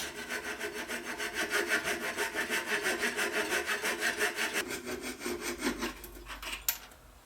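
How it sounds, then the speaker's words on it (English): A fret saw cuts slots into a clamped wooden cord holder with steady, rhythmic back-and-forth strokes, close and even throughout, ending with a final rasp as the blade finishes the last cut. "I have the fret saw, so that's what I'm going to use."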